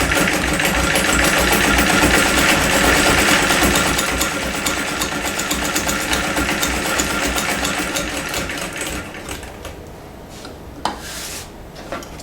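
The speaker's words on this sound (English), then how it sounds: "let's do a really short zigzag stitch" A vintage Singer 206K sewing machine runs steadily, stitching a short zigzag on denim, its dense mechanical whir and rapid rhythmic chatter loud and close before tapering off near the end.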